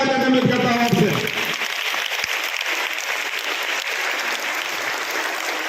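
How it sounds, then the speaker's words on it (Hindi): Loud, sustained applause from a school audience of children and teachers fills the whole stretch, a dense wash of clapping with a voice speaking briefly over the start. "तो मैं सभी के लिए एक बार जोरदार तालियां उम्मीद करता हूं आपसे।"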